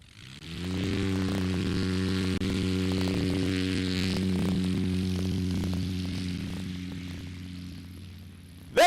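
Mad Husky light airplane's engine and propeller during takeoff, a steady buzzing drone that swells in and holds loud, then slowly fades as the plane climbs away.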